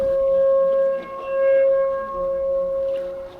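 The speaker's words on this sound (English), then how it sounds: "I don't know if I've ever had the tornado sirens go off while I was fishing." A tornado siren wails in a long steady tone that swells and dips in loudness, carrying loud and sustained throughout, heard outdoors during a fishing tournament.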